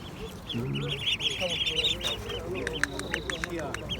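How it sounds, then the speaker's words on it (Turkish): Several ducks quack repeatedly at the Edirnekapı poultry and bird market in Istanbul, a noisy outdoor setting, with other fowl and people's voices mixing in the background. "Ördeklere bakın ya."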